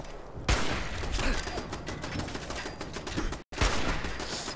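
Rapid gunfire in Fallout 4 aimed at machine motors: dense, sustained bursts of loud shots that cut out briefly, then resume just as hard.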